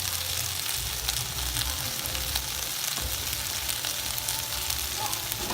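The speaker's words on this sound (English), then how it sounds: "make sure you go ahead and get that in there and stir it around so that it can absorb and you don't have chunks of flour" Flour is stirred into huevos rancheros sauce in a hot pan, heard as a constant loud sizzle and bubbling with faint scraping underneath, close up and without talk.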